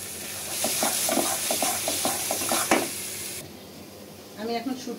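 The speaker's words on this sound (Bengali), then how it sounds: "ধরো আমি এখন শুটকি দিয়ে দেব।" Dried loitta fish (shutki) frying in a pan with red masala makes a loud, close sizzle broken by quick scraping stir strokes, then settles into a quieter bubbling fry.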